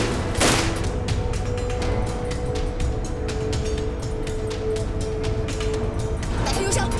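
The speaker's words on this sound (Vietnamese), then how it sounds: "nổ súng cảnh báo." Warning shots ring out in a Vietnamese martial-arts action drama: rapid, sharp gunshot bursts repeat steadily throughout, close and loud over a constant low rumble.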